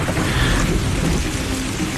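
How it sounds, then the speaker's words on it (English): Heavy rain pours steadily while low thunder rumbles underneath, loud and close with no voices. "And I can hear thunder again now."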